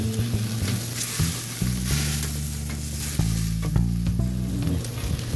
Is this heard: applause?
no